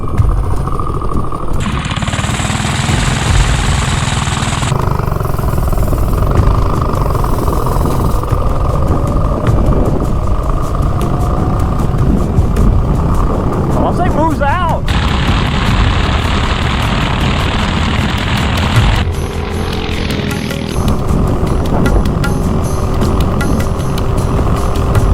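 Razor dune buggy converted from 24 volt to a Tillotson 212 gas engine, its small motor droning steadily up close as it drives, with pitch shifts as it speeds up and slows down.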